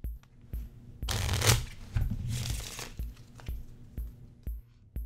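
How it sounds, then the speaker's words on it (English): A deck of playing cards being riffle shuffled close up: sharp taps as the halves are squared, then a dense burst of rapid flicking as the cards interleave, followed by more taps and a short second riffle. "Usually when people talk about shuffling cards, they're referring to the Riffle shuffle"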